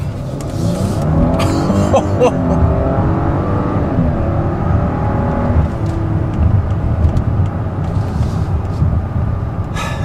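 A 2017 Lincoln MKZ mid-size sedan with a 3.0 twin-turbo engine, 400 horsepower and all-wheel drive, holds a loud, steady engine roar for about ten seconds, with some tire noise and brief higher bursts.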